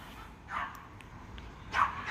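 Two short bursts of dog barking come from some distance away, one near the start and one near the end, faint against a quiet background.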